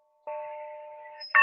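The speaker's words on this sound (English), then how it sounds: "we will have the ringing of the bell to start the meeting" A rotary bell, larger than the usual one, rung at the start of a meeting gives a single clear, sustained ring that fades slowly, followed by a brighter second strike right at the end.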